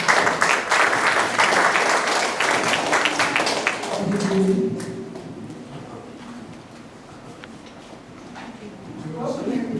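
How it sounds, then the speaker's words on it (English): An audience of seniors at a community computer group claps to welcome a speaker, loud and dense for about four seconds, then dying away as a voice begins talking over quieter room sound. "Let's give her a clap."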